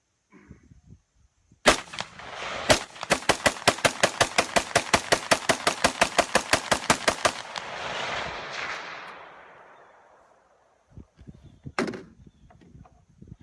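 A rifle fitted with an aftermarket Geissele trigger fires a rapid string of about twenty loud, evenly spaced shots after a couple of single reports, echoes rolling away, then one more isolated shot.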